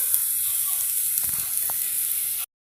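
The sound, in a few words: corned beef frying in a pan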